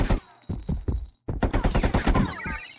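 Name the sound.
SMG gunfire in an Unreal Engine 5 video game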